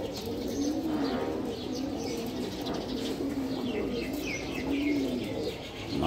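Pigeons kept in a loft cooing in repeated low rolling calls, several coos in a row at close range, with faint chirps and other bird sounds in the background.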